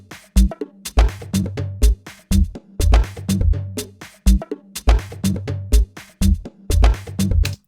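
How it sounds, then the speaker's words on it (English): Layered bass hits sit under a percussive house or techno loop built in Ableton, with deep low thumps locked to sharp clicky percussion in a tight repeating groove, loud and alone. "So this sounds like this now with a bass layering underneath it."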